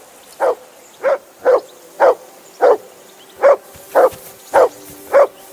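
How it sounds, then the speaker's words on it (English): A dog in the video game Kingdom Come Deliverance II barks about nine times in a steady, evenly spaced series, loud and close, with no talking over it. "Jesus, Henry, that barking's driving me nuts! Can you get your dog to shut its beak?"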